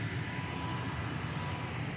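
A plane's engine drones steadily on the ground while it taxis at a busy airport, a continuous broadband roar holding even throughout with no talk over it.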